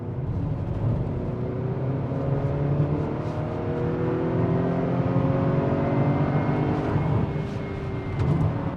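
A 2020 Acura RDX's 2-liter inline-4 revs hard in Sport Plus, heard from inside the cabin as a steady, loud engine drone whose pitch climbs repeatedly through the gears toward about 7,000 RPM.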